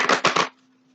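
Tarot cards being shuffled, three quick riffling bursts in half a second, close and crisp, followed by near silence with a faint steady hum.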